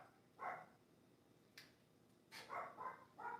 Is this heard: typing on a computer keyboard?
no